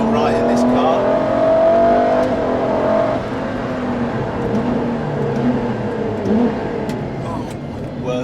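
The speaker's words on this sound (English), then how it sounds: "noise from the V12 engine going on behind me" Ferrari LaFerrari V12 engine driving on the road, a loud revving drone heard from inside the car, rising and settling through gear changes, with someone talking over it.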